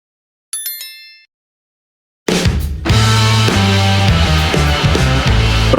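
A bright, brief notification bell chimes with a quick ringing decay and fades in under a second. After a short silence, loud music begins.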